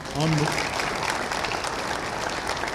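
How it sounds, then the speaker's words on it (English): Sustained applause from an audience at a memorial celebration of life, honoring a speaker; a dense wash of many hands that swells at the start and holds steady, with a brief voice near the beginning. "Give him another round of applause."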